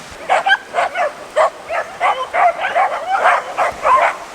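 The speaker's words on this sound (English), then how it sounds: "some random guy just put up a drone, and the dogs are just going wild" A group of dogs barks wildly at a drone on Playa Caleton beach in the Dominican Republic, a fast run of sharp, yappy barks and yips at moderate distance with no talking.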